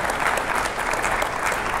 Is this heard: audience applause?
yes